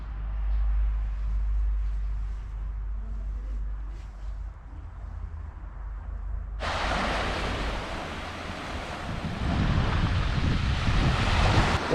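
Adriatic Sea wind gusts in a low, muffled rumble across an empty off-season beach, then breaking surf swells into a loud, broad, hissing wash for the second half.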